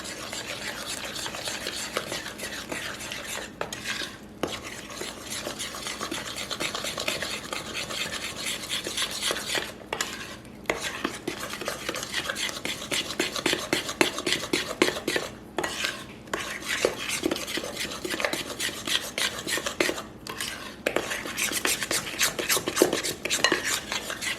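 Jelly cake batter being mixed in a bowl, with a utensil steadily scraping and clinking against the bowl in a continuous rhythmic stir, close and fairly loud, with a few brief pauses.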